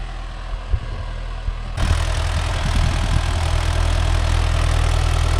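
A Mahindra Yuvo Tech Plus 585 4WD tractor pulling a 5-tine cultivator through a field runs with a loud, steady diesel rumble that swells suddenly and then holds a constant, louder drone, with no talking.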